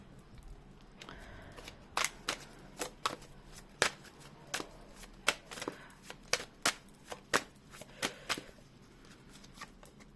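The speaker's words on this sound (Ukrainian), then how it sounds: "У мене просто карти розлітаються." Tarot cards being shuffled in a series of sharp, crisp riffles and snaps, irregularly spaced, close by against a quiet background with no talking.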